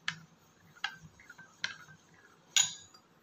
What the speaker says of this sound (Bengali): এখন 3টে উপকরণকে খুব ভালো করে একটু এইভাবে মিশিয়ে নিতে হবে।